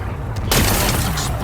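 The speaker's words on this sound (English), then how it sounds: "Gotta blast away some rocks" A blast erupts midway in Horizon Forbidden West as rocks are blown apart, a sudden loud broadband burst that stays sustained and rumbling after a quieter stretch of game ambience.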